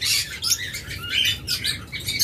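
A pair of pet birds chirp and call in quick, bright bursts, close and fairly loud, repeating without pause over low background hum.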